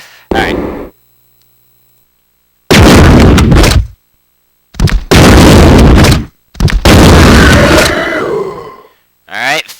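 Explosive rounds fired in Resident Evil 2 as three loud, booming blasts, each with a long rumbling tail and gaps of near silence between, plus a brief thud at the start and another at the end.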